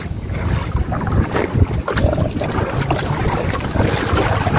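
Wind rushes across a fishing boat at sea, buffeting the microphone with a steady roar and rumbling gusts, while water and hull noise sit underneath. No one speaks.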